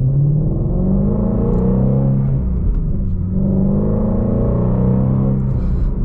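Shelby GT350 engine after an exhaust repair, idling with a deep, throbbing rumble and gentle blips of revs, steady and close with no voices.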